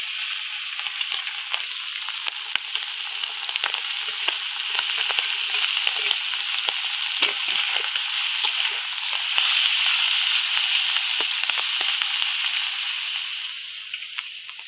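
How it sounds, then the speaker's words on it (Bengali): Tangra fish frying in hot oil, a steady bright sizzle with scattered pops and crackles running continuously throughout, close and fairly loud, with no talking. "আর আমি ট্যাংরা মাছগুলো ভেজে নেব"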